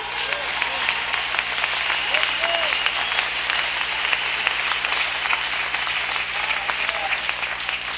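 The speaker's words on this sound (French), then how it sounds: "Oh, acclamons pour Jésus." A congregation at a Christmas Eve church service applauds in a dense, sustained wave of clapping that fills the room, with voices mixed into the applause.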